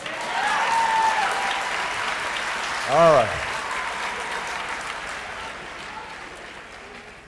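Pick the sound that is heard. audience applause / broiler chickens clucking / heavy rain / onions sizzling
audience applause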